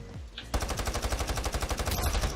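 A submachine gun fires in the Iron Sight first-person shooter game, a single fast, steady burst of evenly spaced shots that starts abruptly and carries on for about two seconds, loud and close.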